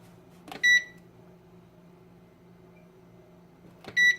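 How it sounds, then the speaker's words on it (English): Oven timer beeping in a kitchen: a short burst of electronic beeps, a quiet pause with faint hum, then another burst of beeps near the end. "Set my timer for 10 minutes."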